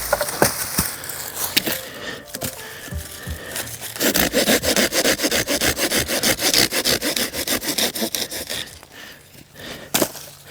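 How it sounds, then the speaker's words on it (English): A Silky Gomboy Curve 210, a small lightweight Japanese folding handsaw, cuts through wood outdoors on a trail camp, a few tentative strokes giving way to a steady, fast rhythmic rasp that runs close and loud until a last stroke. "Silky Gomboy Curve 210. It's a little handsaw. It's made in Japan."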